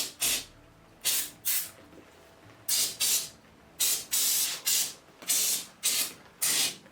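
Aerosol spray blasted at a wasp nest in repeated short bursts, each a sharp hissing jet lasting under a second, about a dozen in quick irregular succession, close and loud against a quiet background.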